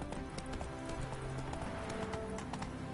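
Roach, a horse in The Witcher 3, gallops with a quick, steady clip-clop of hooves close by, layered over faint ambient background sound.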